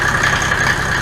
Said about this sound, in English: this is OM606 running in G W463